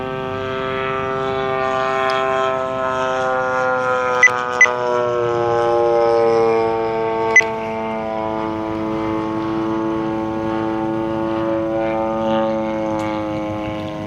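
A 35cc gas-powered Gilmore Red Lion Racer, a 74-inch RC model airplane, drones steadily in flight at less than full power, its engine note loud and continuous with a few brief clicks over it.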